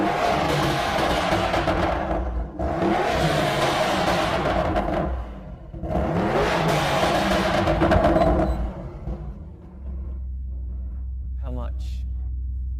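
A warm engine in a limited-run Audi RS6 ABT revs hard in three long, loud roaring bursts, then drops back to a steady low rumble.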